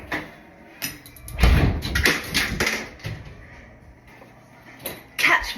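A leash is pulled out of a household drawer with a run of clattering knocks and sliding, rummaging thumps, some louder bursts near the middle and end, and no talking.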